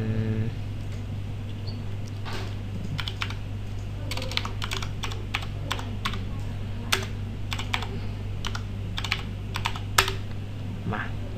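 Someone types on a computer keyboard, producing quick irregular bursts of close, crisp key clicks over a steady electrical hum, with short pauses between the runs of keystrokes.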